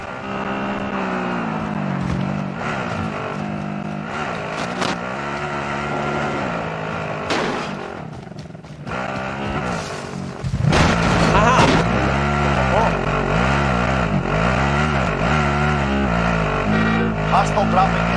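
A vehicle is driven in the video game Call of Duty Warzone, its engine droning and revving continuously with rising and falling pitch, louder after a gear change, while players talk over it.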